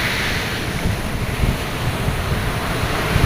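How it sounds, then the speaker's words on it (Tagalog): Big sea waves break against the shore by a beach hut, a constant heavy wash of surf mixed with buffeting wind noise on the microphone, loud and close with no voices. "Ang lalaki pa rin ng alon, no?"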